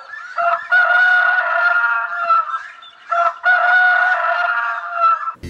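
A rooster crows from a wire rooster sculpture in the Cantagalo neighbourhood of Florianópolis, two loud, drawn-out calls with a short break between them and nothing else around them.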